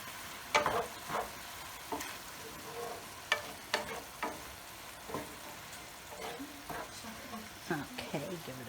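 Sausage meat sizzling in a pan with repeated scraping and stirring knocks, a soft sizzle underneath, and a voice talking quietly at times.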